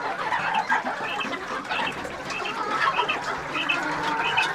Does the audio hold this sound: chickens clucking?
yes